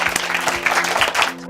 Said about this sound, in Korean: 박수 한번 치고 시작합시다.